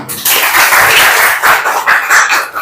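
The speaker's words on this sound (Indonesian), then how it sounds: "Berikan tepuk tangan yang meriah." A class of schoolchildren claps loudly and close by in a sustained burst of uneven applause lasting a couple of seconds before fading.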